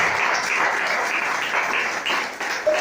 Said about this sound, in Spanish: Dale fuerte ese aplauso en esta mañana al Rey de Reyes